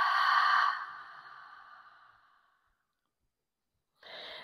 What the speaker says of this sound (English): Inhale through nose. Exhale out mouth.